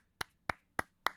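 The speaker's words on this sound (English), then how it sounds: "Let's give a round of applause for FA _ Grax" Four single claps in the Team Fortress 2 game setting, sharp and evenly spaced, each a crisp isolated hand clap rather than a full crowd applause, alone with no talk.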